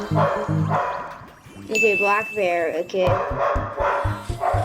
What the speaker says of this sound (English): that's a dog in the background